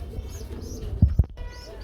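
Lahori pigeons give soft, low coos nearby, with two stronger throaty pulses near the middle among faint chirps and background murmur.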